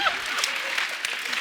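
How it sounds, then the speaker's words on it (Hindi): Applause from a studio audience at a Hindi TV comedy show, The Kapil Sharma Show, a dense, bright wash of clapping that holds steady throughout, with a voice faintly present underneath. "इनके लिए जोरदार ताली"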